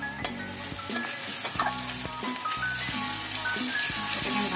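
Spices frying in a pan for Bengali tangra catfish curry, a steady sizzle broken by regular scraping stirs about every half second, close and moderately loud, with no talk.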